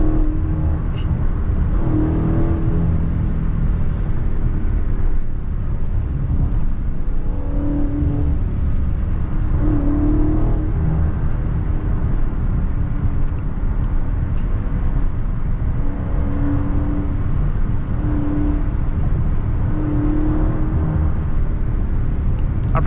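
A 2023 Dodge Charger SRT 392 Last Call, heard from inside the cabin with the rear windows down, drones loudly and steadily with recurring engine pitch swells as it runs through downshifts, backed by heavy road and wind rumble.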